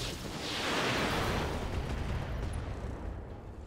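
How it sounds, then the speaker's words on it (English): Weapons firing in the combat video game Flashpoint, a loud sustained rumbling blast that swells and then slowly fades, with no talk over it. "we're gonna fire straight on this guy. All weapons committed."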